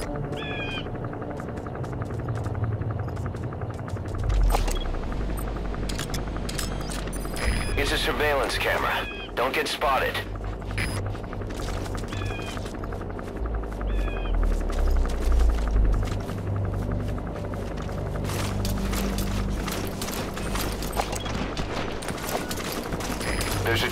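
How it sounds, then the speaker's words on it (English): Helicopter landing in Metal Gear Solid V, a steady rotor thrum and whine under gunfire-like bursts and game noise, with voices talking over it throughout. "There's a chopper landing."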